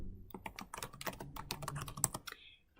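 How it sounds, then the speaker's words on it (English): A password is typed on a computer keyboard while logging into a Windows Server: a quick, irregular run of light key clicks, close and fairly quiet, tapering off at the end, with no talking. "Typing in a password."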